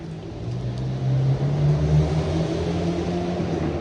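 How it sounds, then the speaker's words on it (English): A car engine hums steadily and swells slightly as the vehicle passes in cold rain, a low continuous rumble at moderate volume with no voices. "That car does not look like it's built to be making those zooming sounds"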